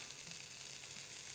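Pieces of chorizo frying in a pan give a soft, continuous hiss and crackle, faint and steady with no voices.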